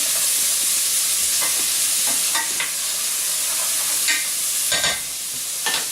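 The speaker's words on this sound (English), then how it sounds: "I'm just going to stir these vegetables around." Vegetables and onion sizzle in a pan with a steady hissing fry, while a utensil stirs them with intermittent scraping clatters, close and fairly loud.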